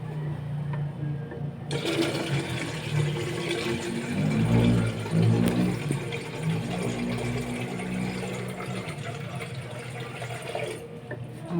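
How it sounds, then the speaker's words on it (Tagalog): Water is poured into a cooking pot to top it up, a continuous splashing, gurgling stream that starts abruptly, swells, then cuts off near the end, close and fairly loud. "Dagdagan ko pa ulit ng tubig guys"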